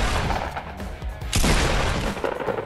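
Rapid gunfire in Fortnite from a sniper rifle and pump shotgun, loud sharp shots with a heavier blast midway, alone without talk.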